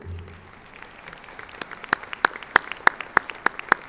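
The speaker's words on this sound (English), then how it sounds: "join me in a round of applause for the UT Pan American Brass Choir" Applause at a summer university commencement ceremony for the UT Pan American Brass Choir begins faintly, then settles into sharp, evenly spaced claps that grow louder and stand out clearly near the microphone.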